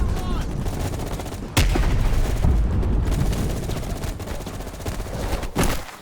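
Gunfire rattles nonstop through a Vietnam firefight in Call of Duty: Black Ops Cold War, dense bursts of automatic weapons with sharp louder shots punching through, loud and continuous.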